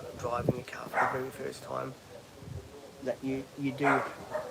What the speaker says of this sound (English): Whoa, he's got a loud bark